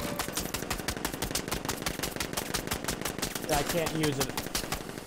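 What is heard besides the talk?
gunfire in video game Batman Arkham Knight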